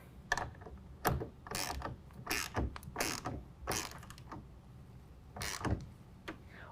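A TruXedo Deuce 2 tonneau cover rail clamp is tightened on a 2019 Chevy/GMC 1500 bed, giving a series of close, sharp ratcheting clicks in uneven bursts with short pauses between, and no talking.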